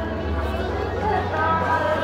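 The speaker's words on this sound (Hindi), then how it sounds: "अरे बहुत भीड़ है" Dense crowd babble fills a busy Geeta Jayanti fair at Brahma Sarovar in Kurukshetra, steady and close all around, with a low hum beneath the many overlapping voices.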